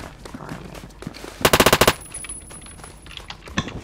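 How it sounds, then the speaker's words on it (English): A short burst of machine gun fire in a video game, about nine rapid, loud, evenly spaced shots packed into half a second, set against quieter game noise with a lone sharp shot near the end. "Burst of fire."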